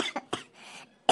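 Several short, dry coughs from one person in quick succession, close to the microphone, with a brief pause before a final louder cough.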